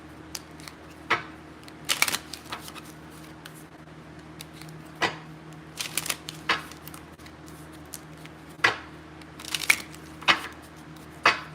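A deck of tarot cards is shuffled by hand in a quiet room, with repeated short papery riffles and slaps at an irregular rhythm, close and fairly crisp, no talking.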